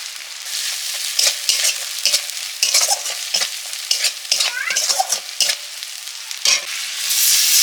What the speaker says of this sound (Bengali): একটু জল দিয়ে মশলাটা কষে নিচ্ছি